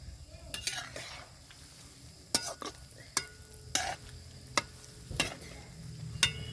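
Palm fritters (taler bora) made with palm pulp sputter steadily in hot oil, a close, even frying hiss broken by sharp clinks and scrapes of a spatula turning them, with no talking.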